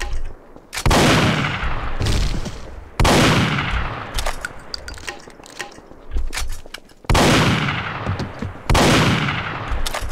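Loud, sharp gunshot blasts in a video game, several bursts with rapid follow-up shots and clanging impacts, close and punchy.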